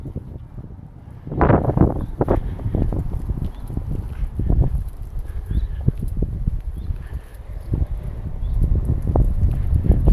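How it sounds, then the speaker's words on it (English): Gusty wind buffeting the microphone on a street in historic Halesworth, Suffolk, with irregular low rumbling bursts and thumps rising and falling throughout, over faint background town sounds and no talk. "Very windy today"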